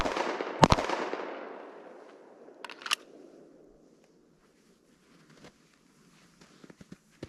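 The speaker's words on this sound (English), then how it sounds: "from the draw, shoot 3 rounds in 6 seconds." Pistol shots fired from the draw at 15 yards on a qualification range ring out as sharp, loud cracks a couple of seconds apart, each leaving a long echoing decay, followed by faint clicks and small handling noises.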